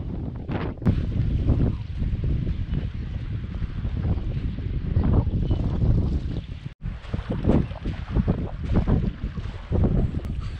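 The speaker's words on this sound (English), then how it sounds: "Super windy today." Strong April wind in Tunisia buffets the microphone in loud, continuous roaring gusts, with a brief dropout partway through; no one speaks.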